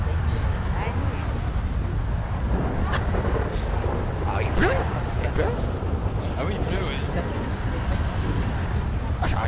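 A thunderstorm with rain: a steady low rumble and dense rain hiss run throughout, with scattered faint voices and sharp noises on top.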